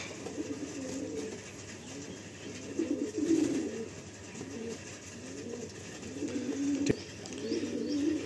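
Pigeons in a loft coo in repeated low rolling phrases, several birds overlapping at a steady rhythm with one sharp click partway through, fairly quiet and close.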